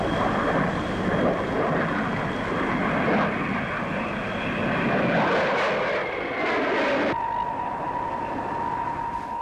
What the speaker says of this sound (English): Here's one of the very latest, a Hawker P1052 powered by a Rolls-Royce Neen turbojet.